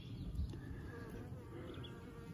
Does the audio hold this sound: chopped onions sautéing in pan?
no